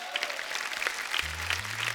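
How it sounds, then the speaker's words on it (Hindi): Studio audience applause at a comedy talk show, a steady wash of clapping at moderate level with a low hum entering near the end and no talk over it. "इसके लिए जोरदार ताली हो जाए।"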